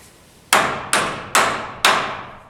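Four sharp, loud hammer blows driving a proud nail into half-inch wood, evenly spaced about half a second apart, each ringing briefly before the next strike.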